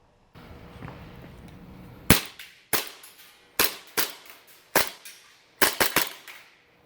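A handgun is test fired in about a dozen sharp cracks, some single and some in quick pairs, each with a short echoing tail, after a quiet stretch of faint background.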